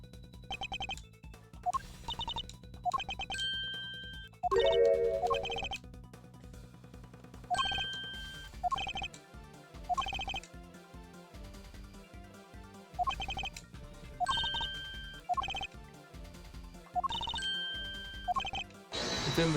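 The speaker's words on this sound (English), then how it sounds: "Take that! It's the phone." A telephone rings repeatedly in the Ace Attorney Investigations video game as a bright, recurring electronic ringtone, layered over busy game music with clattering percussion.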